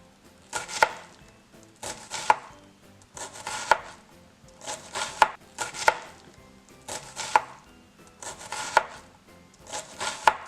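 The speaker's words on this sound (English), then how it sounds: "if you want diced onions, just kind of cut along the edges" A knife dices onions on a cutting board in a steady series of about eight crisp chops, evenly spaced and close, with no talking.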